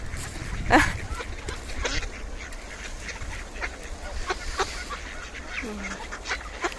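Ducks being fed sunflower seeds quack and honk in scattered bursts, some close and loud, others further off, over a busy outdoor background.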